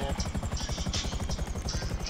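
Chopper in GTA with a steady, loud rhythmic rotor thump throughout, close and continuous, with a whining engine drone on top.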